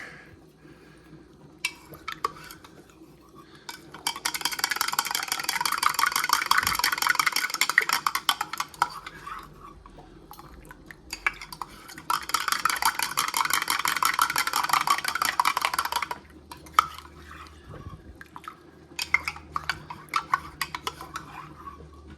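A spoon scrapes and clinks rapidly in a container while a Belarusian ration meal is stirred after boiling water is added, in two long close bursts separated by quieter ticking, with no talk.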